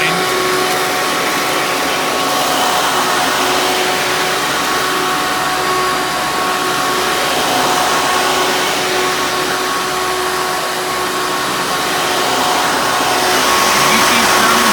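Hoover bagless twin-chamber upright vacuum cleaner running steadily at close range, a loud continuous motor whine and airflow roar with a faint tonal hum, holding level for the whole stretch with no talk.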